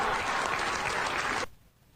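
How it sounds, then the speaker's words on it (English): Bill Maher's studio audience bursts into loud, dense applause that holds steady for about a second and a half, then cuts off abruptly into near silence. "Applause from the Maher audience on a dig on Kamala Harris"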